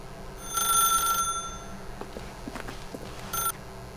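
Telephone ringing in The Stanley Parable, a bright electronic bell trill in two bursts, the first longer, with soft clicks and footsteps between them.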